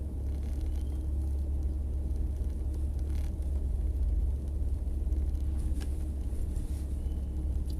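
A car drives along at the bottom of the Tzaneen Mall with a steady low engine rumble and road noise heard from inside, continuous and fairly loud.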